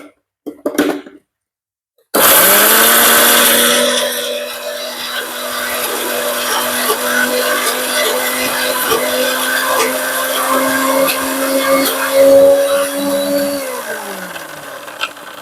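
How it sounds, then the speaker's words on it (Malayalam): An electric mixer grinds coconut chutney with a loud, steady motor whine that runs for about eleven seconds, then winds down at the end. A short bump of kitchen noise comes just before the motor starts. "ചമ്മന്തി മിക്സിയിൽ വെച്ചു."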